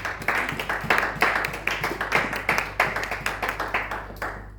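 A church congregation at a Sunday service claps in a steady, rhythmic beat, loud and close, with the even pulse continuing for several seconds.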